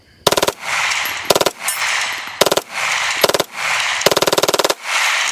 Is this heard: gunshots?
yes